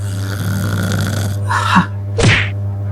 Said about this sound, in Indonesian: Ini ngorok atau mesin tempur sih?